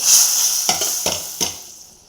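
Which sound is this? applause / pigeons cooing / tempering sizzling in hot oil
tempering sizzling in hot oil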